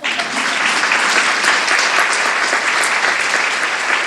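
A crowd at an outdoor political speech applauds loudly and continuously, many hands clapping in a dense, even roar with no voice standing out above it.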